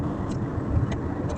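Road traffic on the approach to Jeddah International Airport, heard as a steady, moderately loud car and engine rumble with occasional brighter swishes of passing vehicles.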